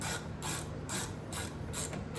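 Ratchet clicking in repeated bursts while tightening the rear brake caliper bolts on a 2011-2015 Kia Optima or Hyundai Sonata, about five short close strokes in a steady rhythm with no talk.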